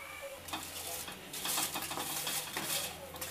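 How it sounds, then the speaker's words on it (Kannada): Dry red chillies and byadgi chillies frying in a hot pan, a soft steady sizzle broken by scraping stirs and light metallic taps, close and moderately loud with no voices. "ಒಣಮೆಣಸು, ಬ್ಯಾಳಿಗೆ ಮೆಣಸು ಫ್ರೈ ಮಾಡ್ಕೊಳ್ಳೋಣ."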